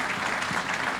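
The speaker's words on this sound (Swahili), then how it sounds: "Wapige makofi wao warembo jameni" An audience at an awards ceremony for athletes gives a brief burst of steady, dense applause, many hands clapping together at an even level.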